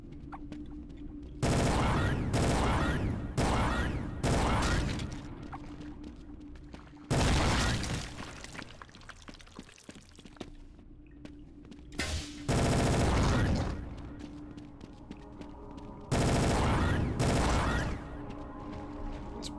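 Gunfire blasting at enemies in Brutal Half-Life, loud, separate bursts of shots breaking out repeatedly with quieter gaps of game ambience between them.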